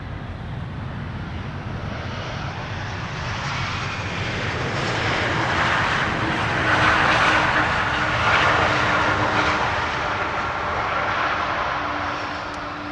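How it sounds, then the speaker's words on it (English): A United Boeing 777 arriving from San Francisco lands at Amsterdam Schiphol on a sunny day, its engines a broad, steady roar that swells to a peak midway and then slowly fades, with no voices. "this United landing from San Francisco is the one that lost the wheel on takeoff last year"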